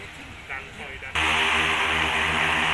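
Agricultural spraying drone on a training flight: after a brief stretch of talk it powers up into a loud, steady rotor roar with a constant whine that holds to the end.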